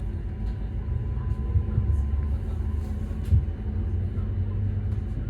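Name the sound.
Northern train departing Hills Green station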